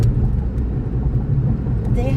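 A car drives over a rough, torn-up construction road, producing a steady, close, low rumble with small bumps and jolts throughout.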